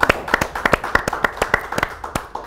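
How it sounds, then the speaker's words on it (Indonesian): A small audience at a youth speech contest claps in a loose, fairly steady rhythm, distinct individual hand claps repeating several times a second, close and clear with no talking over them. "Tepuk tangan yuk."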